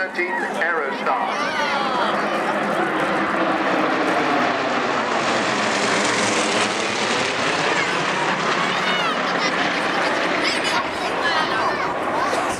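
The Aerostars aerobatic team's large propeller aircraft roar continuously overhead at the 2013 Cosford airshow, a loud, droning engine sound with pitch sweeping up and down as the planes manoeuvre through a loop.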